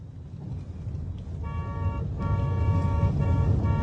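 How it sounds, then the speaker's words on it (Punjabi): A car horn blares in several sustained honks, the first short, then longer blasts over a rumbling engine nearby. "ਹਾਰਨ ਤੇ ਹੱਥ ਰੱਖ ਹੱਥ ਰੱਖ ਹਾਰਨ ਤੇ"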